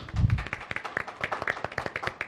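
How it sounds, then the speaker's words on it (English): Audience at a law school business competition event applauding, a scattered round of claps with individual hand strikes audible, fairly close and moderate in loudness. "Round of applause for him,"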